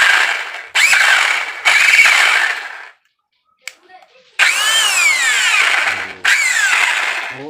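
A three-function rotary hammer drill, being repaired after failing completely, whirs in several loud bursts, with whining spin-up and spin-down sweeps between short pauses and a near-silent gap midway, heard close and alone.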